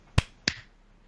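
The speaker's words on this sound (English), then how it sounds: "Let's do the clap. Ready? 1, 2, 3." Two sharp hand claps about a third of a second apart, the first louder, made to sync audio at the start of a recording, alone in a quiet room.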